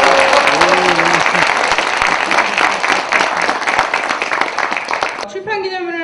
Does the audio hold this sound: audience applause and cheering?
yes